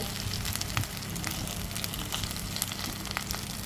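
Food fries in ghee inside a covered pan, giving a steady, close sizzle with crackling pops throughout and no voices.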